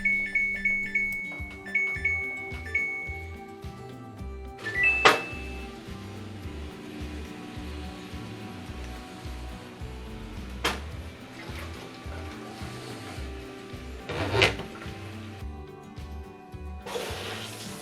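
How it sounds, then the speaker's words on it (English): A Samsung washer set to cold runs with beeping signals at the start, then a low churning hum, a few clinks and bursts of rushing water as it fills. "since the washer is running now, we can check for leaks"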